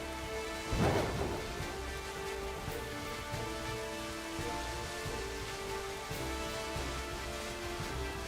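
Steady rain falling in the Pokémon Scarlet video game, a continuous even hiss with a brief louder burst near the start and no talk.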